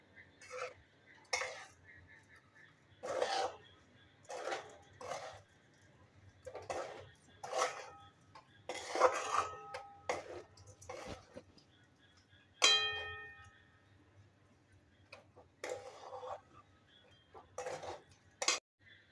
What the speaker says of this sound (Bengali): এবার সব কিছু একসঙ্গে মিশিয়ে নেবো